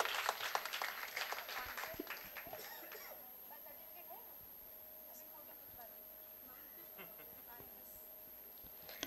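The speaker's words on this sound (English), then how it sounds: "Big round of applause for both of them." Applause at an academic valedictory session fades out over the first few seconds, a crowd clapping that thins into quiet room noise with occasional faint sounds.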